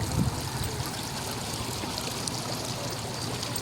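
Water runs in a stream at a bridge construction site, a faint, even rushing flow that carries on without a break, with a soft bump near the start.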